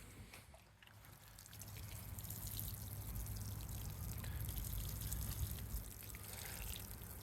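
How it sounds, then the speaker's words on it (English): Water sprinkles steadily onto freshly sown spinach, Swiss chard and kale seeds in an outdoor garden bed, a faint, even hissing trickle with no voices. "Now I'm going to water them"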